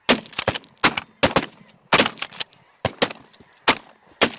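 Shotgun blasts ring out while hunting snow geese and ducks, with about eight loud sharp shots fired in quick clusters close by and faint goose honking between them.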